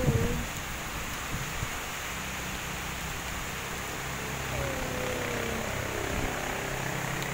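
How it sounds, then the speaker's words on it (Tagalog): Heavy rain hisses steadily and evenly in the foggy Busay highlands of Cebu, a dense wash of sound with no breaks. "Grabe ang ulan."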